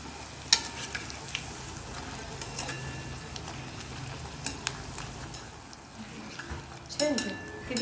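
Jowar and moong dal puris deep-fry in hot oil with a faint, steady sizzle, broken by occasional sharp clinks of a utensil against the pan.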